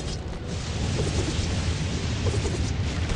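A lightning spell strikes in the mobile game Tower Conquest: a dense, continuous crackling rumble like a thunderstorm, loud and steady throughout with no talk over it.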